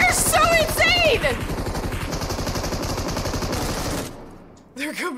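Rapid machine-gun style gunfire in a battle royale video game, loud sustained bursts over the whole clip that cut out near the end, with an excited voice talking over the start and finish.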